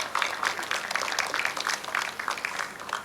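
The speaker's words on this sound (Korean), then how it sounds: "또 신동훈 국회의원님께도 예, 큰 박수 여러분 주민 여러분 부탁드리겠습니다" Crowd of residents clapping at a groundbreaking ceremony for the Incheon Line 1 subway extension in Geomdan New Town, steady applause from many hands with an outdoor, spread-out sound.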